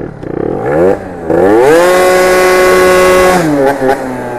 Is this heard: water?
no